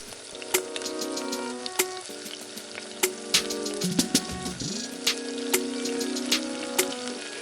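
Pani puri dough rounds deep-fry in hot oil with a steady bubbling sizzle, broken by sharp clicks and occasional spluttering pops, close and moderately loud, no voices.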